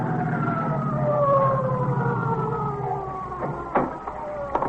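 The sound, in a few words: approaching emergency vehicle siren, radio drama effect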